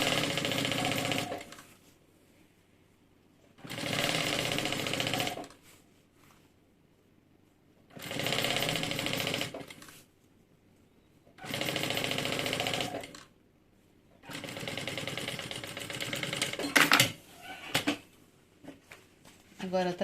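Sewing machine stitching a bag lining, running in four or five steady bursts of a few seconds each with quiet pauses between them, the last stretch busier and more uneven.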